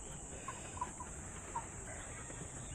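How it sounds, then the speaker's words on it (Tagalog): Faint clucks and peeps come from chicks on a small farm, a few soft calls scattered over a quiet background with a steady high hiss. "Ngayon itong masisiw ko naman."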